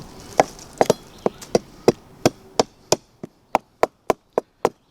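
Sharp wooden chopping strikes from a machete carving a wooden spindle, about fifteen in a steady rhythm, close and crisp with no talking.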